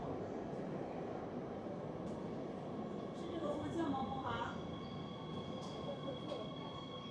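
Steady rumble of a moving metro car on the Harbin subway in China, a continuous loud rolling drone with faint rail squeal and no clear talk.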